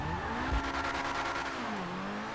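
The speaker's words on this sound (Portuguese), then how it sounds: "o carro é tão ignorante que ele sai cantando pneu" A car in Grand Theft Auto V squeals its tires under a droning engine as it pulls away, the pitch rising and falling, loud and continuous, with no voices.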